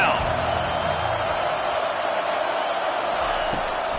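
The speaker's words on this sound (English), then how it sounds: "Here comes this home crowd as the defense tries to get off the field on 3rd down." A home crowd at a college football game roars steadily as the defense tries to get off the field on third down. The noise is a loud, constant wash with a commentator talking over it.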